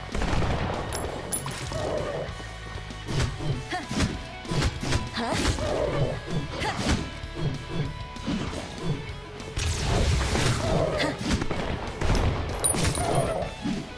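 Hits and shots from the Nunholy video game, a dense run of crashing thumps and bursts of gunfire that repeat fast, loud and busy for the whole stretch.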